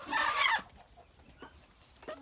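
Young Amrox chickens: one gives a loud burst of clucking, followed by a few quieter, scattered clucks nearby.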